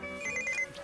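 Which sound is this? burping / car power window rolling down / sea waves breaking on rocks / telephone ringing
telephone ringing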